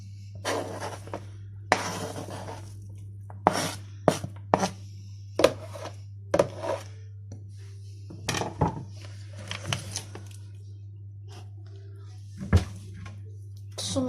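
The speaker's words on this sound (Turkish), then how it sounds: "İnce ince doğruyorum soğanlarınızı." Onions are sliced thinly with a knife on a cutting board, irregular crisp chops and taps over a steady low hum, with someone talking in between.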